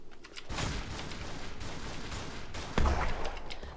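Alpha 12 weapon firing in a zombie survival video game at a construction site, a sudden burst of rapid gunfire kicking in after a quiet start with a heavier thump partway, moderately loud throughout.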